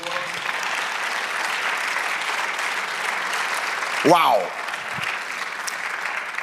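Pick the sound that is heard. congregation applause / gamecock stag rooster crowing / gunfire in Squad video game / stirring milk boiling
congregation applause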